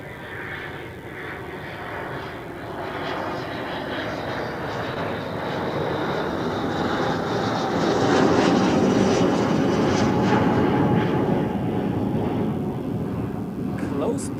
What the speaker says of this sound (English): now let's take a look at the PC-24. That's very close.